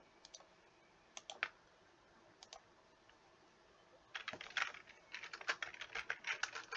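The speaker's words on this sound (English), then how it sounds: "my typing is horrible today" Keyboard typing: a few scattered clicks at first, then a dense, rapid run of keystrokes, close and fairly quiet, no voices.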